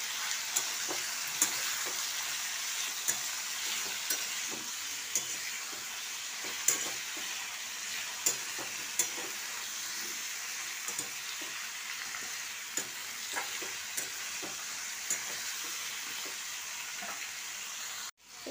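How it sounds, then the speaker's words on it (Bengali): Turmeric, chili and coriander powder fry for a bottle gourd curry, sizzling steadily in a pan while being stirred, with frequent small scrapes and clicks and no one talking. "সব মশলাটাকে ভালো করে নেড়ে নেব।"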